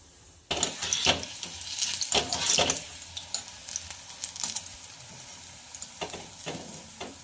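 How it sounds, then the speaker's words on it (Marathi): Chilli fritters (mirchi bhaji) frying in hot oil, a sizzle that starts suddenly and is broken by sharp scraping and clinking from stirring and turning the fritters, close and fairly loud, with no voices. "तर अशाच पद्धतीने आपण सर्व मिरची भजी फ्राय करून घेऊया।"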